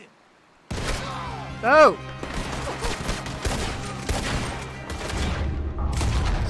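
Gunfire in Red Dead Redemption 2: a sudden burst of shots breaks a short silence, followed by scattered reports and a rumbling mix of game sound, with a man's brief exclamation.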